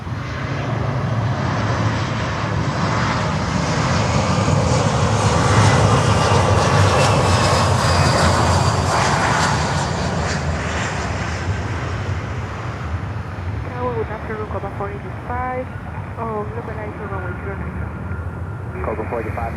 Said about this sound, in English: Dominican Republic registered BizJet is coming in.